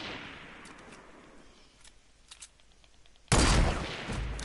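Gunfire in a PS4 shooter game, a loud burst of rapid shots arriving suddenly after a quieter stretch of distant popping and ambience, with no talk during the shooting.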